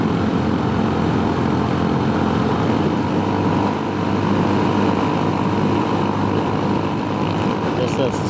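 Scooter engine held at eased-off throttle on a long ride toward tall mountain ridges, a steady, loud drone with heavy wind rush throughout, running continuously without breaks.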